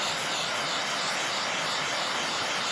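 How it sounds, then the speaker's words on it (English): Heat is applied around the exhaust valve of a 1933 John Deere Model E 1.5 HP hit-and-miss engine, giving a steady, close hissing roar that holds unbroken throughout with no talking. "I'm going to heat up a little bit around this exhaust valve here."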